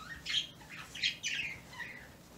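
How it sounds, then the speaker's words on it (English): Birds chirp and squawk nearby in a few short, bright calls spaced across a couple of seconds, clear against a quiet background, and no one speaks. "The birds."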